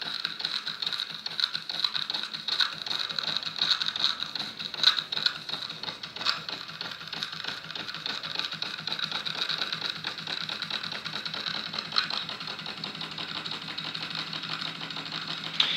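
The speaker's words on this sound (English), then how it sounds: "the little steam engine. This is homemade." A small homemade model steam engine runs steadily, giving a continuous fast mechanical ticking and chuffing with a faint hiss, even and close throughout.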